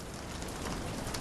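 Steady rain pours in the Sherlock Holmes The Awakened video game, a dense, even hiss of drops on surfaces filling the whole short stretch with no voices.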